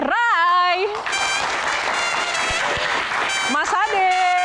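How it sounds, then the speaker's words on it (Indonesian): Audience applause at an Indonesian talk-show Q&A as the guest is welcomed on stage, a steady wash of clapping under loud continuous talk from the host throughout. "Mas Ade, tepuk tangan sekali lagi."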